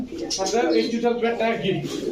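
Pigeons coo in soft, throaty, warbling calls that rise and fall close by, overlapping one another, with a person speaking over them.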